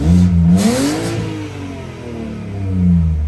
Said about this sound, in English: It definitely does sound a little bit raspy, but you can't really make these twin turbo inline sixes sound any better than this.